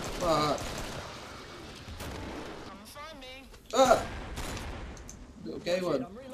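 Rapid gunfire and explosive bursts from the Killing Floor Aliens mod, loud and close, with excited voices shouting between the shots.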